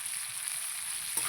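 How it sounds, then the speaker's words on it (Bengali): Ginger paste, chili powder, salt and turmeric fry in a pan for a shrimp and vegetable curry, hissing in a continuous sizzle. A brief stir-like burst comes just before the end. "দিয়ে মশলাটা কষিয়ে নেব"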